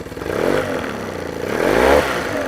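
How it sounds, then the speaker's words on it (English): A Hidea four-stroke outboard motor idling in neutral rises into a brief rev as the throttle is twisted, the engine note swelling twice over a few seconds, close and fairly loud with no voices. "If we twist the throttle a little bit"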